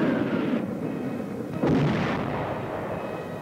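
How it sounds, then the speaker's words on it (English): WWII mortar and artillery fire in Italian hill country, two heavy rumbling booms a second apart, each rolling out into a long low reverberant decay, fairly distant and alone. "Both times they had come up against a wall of automatic weapon, mortar, and artillery fire."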